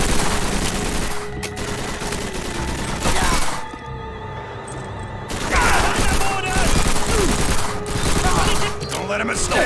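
Machine gun fire in the video game Call of Duty: World at War on PS2 keeps up a loud, sustained rattle of automatic shots through nearly the whole stretch, briefly easing midway, with battle noise and shouted voices around it.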